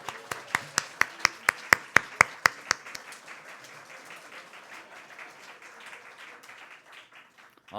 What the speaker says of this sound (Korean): 우리 그 의주하고 수민이 양가 부모님들에게 다시 한번 축하의 박수 드리도록 하겠습니다